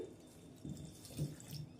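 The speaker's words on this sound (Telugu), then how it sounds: "దీంట్లోకి ఒక టీ గ్లాస్ అన్ని నీళ్ళు వేసుకోండి" Water is poured from a tea glass into a pot holding ginger-garlic paste for a fish and cucumber curry with drumsticks. It makes a faint, soft splashing trickle in short bursts, close by.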